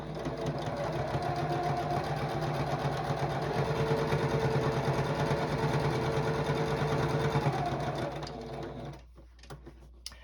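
Sewing machine quilting a star tabletopper, a steady loud mechanical whir with rapid needle rhythm running nearly eight seconds, then stopping abruptly with quiet afterward.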